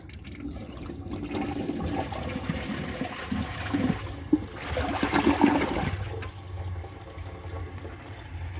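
A 2011 Kohler Rialto Ingenium toilet flushes with a loud rushing, gurgling surge of water that swells mid-clip, then drops to a softer trickle and refill hiss, with no talking.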